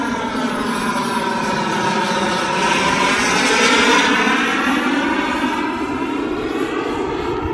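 A Hangar 9 Hawk RC model airplane drones steadily through a slow pass with gear and flaps down, its engine note holding a continuous harmonic whine that swells slightly toward the middle, moderately close and alone.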